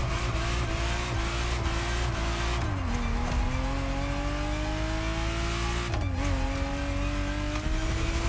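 A Ferrari Testarossa roars in The Crew Motorfest racing game, a loud sustained engine drone that dips twice as gears shift before climbing again, with tire noise mixed in throughout.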